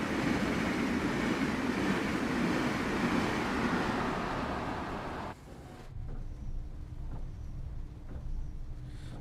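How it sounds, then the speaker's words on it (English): A fast train in the Train Sim World 6 game rushes past with a loud, dense roar that cuts off abruptly, leaving a quieter steady rumble with faint rhythmic clicks of the track. "Oh, fast train."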